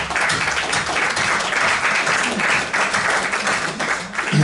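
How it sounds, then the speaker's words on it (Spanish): Audience applause at a Spanish book presentation, a brief burst of clapping from a seated crowd, fairly loud and even, fading slightly before the end. "Un aplauso."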